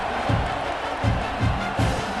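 A stadium crowd roars steadily in the EA Sports College Football 26 video game, loud and continuous, with low thumping drum-like beats pulsing underneath.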